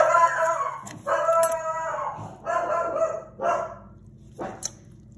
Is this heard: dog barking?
yes